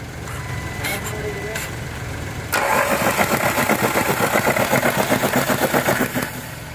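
A Volkswagen Polo engine cranks and catches with a sudden loud start, then settles into a steady, rapidly pulsing idle close by, after a stretch of low background noise.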